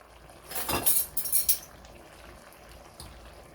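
A spoon clinks and scrapes against a pot while sugar is stirred into stewed onions and squash, a brief flurry of metallic clinks, then quiet simmering.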